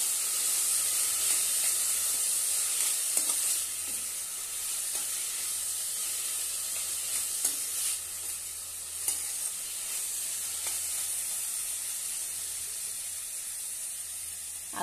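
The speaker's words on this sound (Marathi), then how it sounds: "आता यामध्ये पत्ता गोबी घालूया। छानपैकी परतून घेऊया।" Shredded cabbage being sautéed in a pan with peas: a steady close hissing sizzle with occasional stirring clicks and scrapes, alone without talk.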